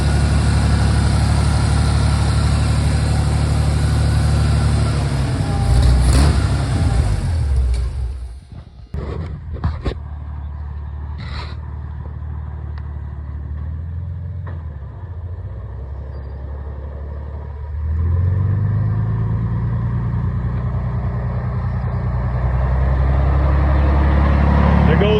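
A Chevy 4.3 engine fitted in a 1948 Farmall Cub tractor runs loud and close on a cold day. Its steady idle roar dips and sputters briefly midway, settles into an even idle, then rises to a stronger rumble.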